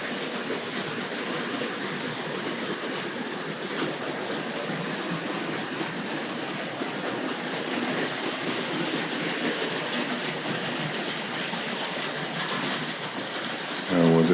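A Hornby 00-gauge 9F heavy freight model locomotive hauling ore wagons runs steadily on its track with a continuous rumbling clatter, fairly close and even in volume, no talking over it.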